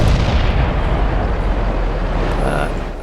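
Loud, dense cannon blasting from a KV-1 tank in a tank battle video game, a continuous booming rumble that stays heavy throughout with little break between shots.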